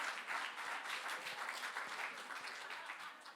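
A church audience at a Sunday service breaks into sustained applause, a soft, even wash of many hands clapping from some distance, with no talk over it.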